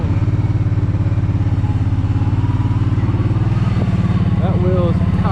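A damaged Kawasaki Brute Force 750 ATV creeps along in low gear, its engine chugging in a loud, steady close-up rhythm with some rattling, and a voice speaks over it near the end.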